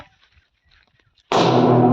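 A firecracker goes off during Diwali: after a near-silent stretch, one sudden, very loud close blast erupts and its roar fills the rest of the moment.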